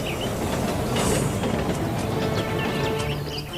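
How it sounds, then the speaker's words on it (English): A cartoon steam locomotive speeds away with a continuous rushing roar and rhythmic clickety-clack of wheels on rails, loud and close, with faint squealing and no voices. "And with a whoosh and a wheeze, Duck sped away to catch the train."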